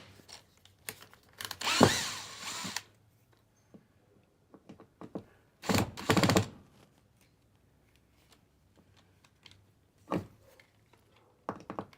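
A power drill backing a screw out of a cedar camper van ceiling, giving two loud whirring bursts with a few shorter, fainter spurts and quiet gaps between.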